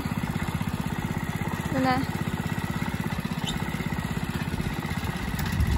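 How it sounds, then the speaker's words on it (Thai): A walk-behind tractor, a two-wheel tiller, churns soil in a home vegetable plot, its engine chugging steadily and near throughout. A person talks over the running engine. "ไปเอารถไถผู้ใดมาไถเนี่ยไปยืมไปขโมยรถไถป้ามาไถ"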